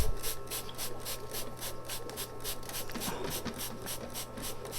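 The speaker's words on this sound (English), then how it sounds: "And then what we're going to do is give it a little spray" Water sprayed in repeated bursts onto the soil around the roots of a potted crape myrtle tree, a steady hiss pulsing several times over a low background hum.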